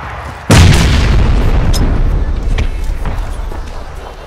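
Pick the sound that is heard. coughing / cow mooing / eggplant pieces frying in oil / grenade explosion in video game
grenade explosion in video game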